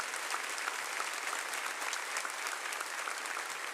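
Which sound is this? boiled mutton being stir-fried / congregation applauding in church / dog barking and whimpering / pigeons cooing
congregation applauding in church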